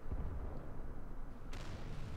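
A British FV207 tier 8 self-propelled artillery gun fires in World of Tanks: a dense, loud, rumbling blast roar that brightens with a sharp burst of crackling noise partway through and keeps rolling to the end.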